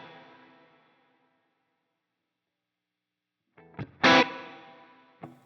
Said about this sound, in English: Another Spring reverb, you know, similar, probably just a different flavor of the same kind of a thing.